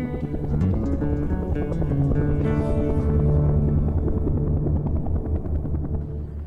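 Loud, rhythmic thumping of helicopter rotor blades with a droning engine, holding steady as the aircraft flies nearby over the Okavango Delta swamp carrying a gimbal camera system.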